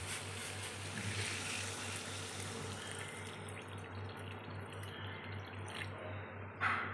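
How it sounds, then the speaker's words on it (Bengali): Hot water poured into a shrimp and pointed gourd curry, a steady soft trickle and bubbling liquid sound running throughout, with a brief louder splash near the end. "এইবারে আমি এই জলটা তরকারির মধ্যে অ্যাড করে দেব"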